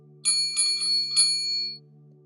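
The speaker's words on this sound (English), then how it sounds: "Maybe service bell help?" A metal service bell sounds in four quick close strikes, and its bright ringing tone lingers briefly before fading to a faint background hum.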